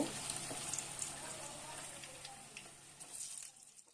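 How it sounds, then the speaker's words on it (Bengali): Vegetable fritters fry in a pan of hot oil, giving a soft, continuous sizzle with small crackles. The sizzle is quiet and close, and it fades toward the end. "দুই দিকে ভালো করে ফ্রাই করব। দুই দিকে ভালোভাবে ফ্রাই করে নেব।"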